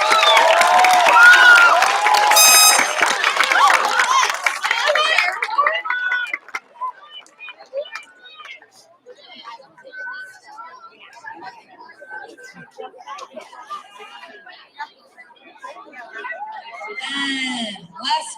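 Fifth-grade promotion audience cheering and clapping for class 5C, a loud burst of crowd noise and voices for about five seconds that fades to scattered, quieter sounds.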